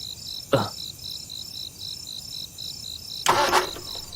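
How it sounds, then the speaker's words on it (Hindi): A car engine cranked twice without catching, two short grinding bursts against a steady loud chorus of crickets at night, with no talk. "हाँ थोड़ा गाड़ी स्टार्ट करो"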